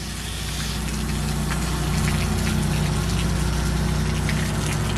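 A pump runs steadily during a hydro pressure test of a portable air compressor tank, making a constant loud mechanical hum and rushing water sound that stays even throughout, with no talking.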